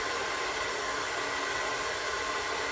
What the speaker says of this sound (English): I'm going to turn my blow dryer off.